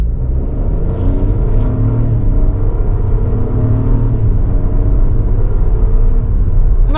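A 2025 Chevrolet Trailblazer RS AWD with its small-displacement engine pulling away under load, a loud steady low drone and rumble heard from inside the cabin with the pitch climbing slightly, brief faint clicks early on.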